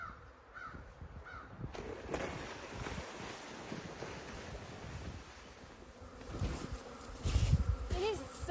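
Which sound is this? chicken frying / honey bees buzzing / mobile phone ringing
honey bees buzzing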